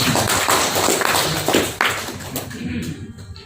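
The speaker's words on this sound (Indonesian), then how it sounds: "Tepuk tangan dulu yang meriah itu." Audience applause at a technical training session for KUA marriage registrars, a dense burst of many hands clapping that swells for about two seconds and then thins out and fades.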